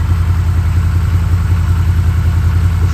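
A repaired engine idles smoothly on all four cylinders, a loud, close, steady low rumble with an even rhythm throughout and no voices.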